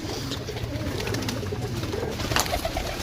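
Many pigeons in a loft coo softly and repeatedly at close range, their low burbling calls overlapping over a faint background hum.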